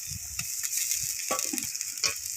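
Onion, garlic and ginger paste masala fries in a pan with a soft, steady sizzle broken by a few quick spatula stirs.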